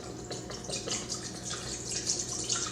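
A liter of liquid pours from a container into a cooking pot, a steady soft splashing and trickling close by with small bubbly drips throughout.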